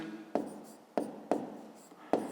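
Numbers being written by hand on paper during a fifth-grade maths exercise: four crisp pen or pencil strokes land at uneven intervals, close and clear with no talking.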